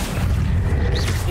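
A Confringo spell blast in Hogwarts Legacy lands as a short, heavy booming burst, loud and close, with a rising whoosh near its end.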